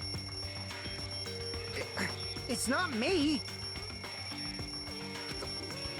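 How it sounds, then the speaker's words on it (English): A wall clock rings in the video game Danganronpa 2, a bright alarm-like bell tone heard among game music and a character's voice, swelling briefly in the middle of the stretch. "The wall clock just started ringing."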